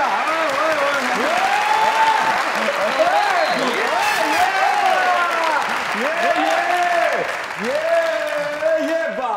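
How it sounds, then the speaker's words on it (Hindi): Studio audience applause on a Pakistani comedy talk show, loud, dense clapping that fills the whole stretch alone, with a host's voice talking over it throughout. "एक बार फिर तालियां जरा।"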